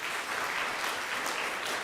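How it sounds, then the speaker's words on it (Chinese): Steady applause from a church congregation welcoming a first-time visitor, even clapping filling the room at moderate loudness. "我们鼓掌欢迎她"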